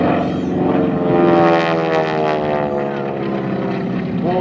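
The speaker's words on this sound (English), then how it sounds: "He's going to show us how to do AT6 aerobatics." Propeller engine of an AT6 aircraft flying aerobatics at an airshow, a loud sustained drone with rising and falling pitch as the plane manoeuvres.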